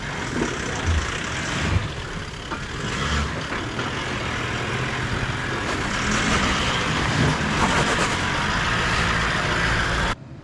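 A Toyota Landcruiser VDJ79 on Kumho MT71 mud tyres pushes through deep, soupy mud, its engine droning steadily with sloshing and tyre noise, loud and continuous.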